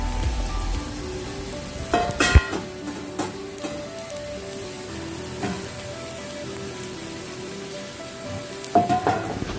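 Sautéed onions and masala sizzle in a pan for an Alappuzha-style chicken curry, a faint steady frying hiss broken by a few sharp stirring knocks and scrapes.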